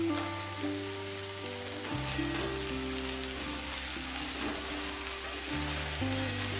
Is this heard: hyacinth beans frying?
yes